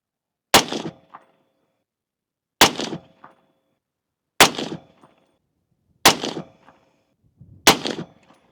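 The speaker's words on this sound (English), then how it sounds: "I'm going to go ahead and shoot the group here" Five rifle shots fired at a target for a group, each a sharp loud crack with a short ringing tail, spaced roughly every one and a half to two seconds, with silence between and no talk.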